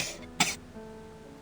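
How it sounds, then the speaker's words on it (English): A maid character in the video game Reverse 1999 gives a single weak, short cough with a throat-clearing quality, close and soft, standing alone briefly amid quiet background. "her cough is weak, like a sickly child's"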